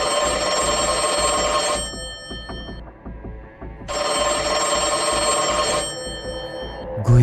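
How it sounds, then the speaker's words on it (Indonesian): An old-fashioned telephone rings in bursts within ruins in a creepy setting, a loud, bright metallic bell trilling for about two seconds, pausing, then ringing again, with no voices. "Dan kemudian telepon jadul di tengah reruntuhan itu bunyi."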